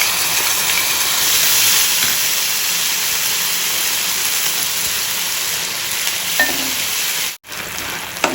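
Ginger paste fries in a pan with a splash of water, giving a loud, steady sizzle and crackle that runs unbroken for several seconds before a brief drop near the end.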